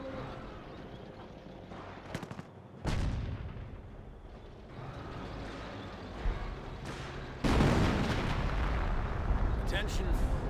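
Artillery booms in a video game match, with heavy low thumps and rumbling blasts over continuous battle noise, loud and close, while a commentator talks over it.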